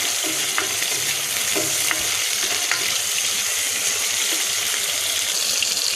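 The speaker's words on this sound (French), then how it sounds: "On fait revenir nos oignons" Onions fry in a pan with a constant, loud, hissing sizzle and a few faint stirring taps, and no one speaks.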